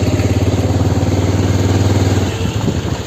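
A motorcycle engine idles up close near the Teesta Barrage, its loud, steady low throb pulsing evenly for the whole stretch with no talk, dipping slightly near the end.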